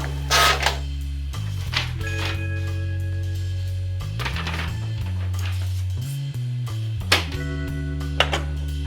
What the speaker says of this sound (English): run the print head alignment procedure from the maintenance menu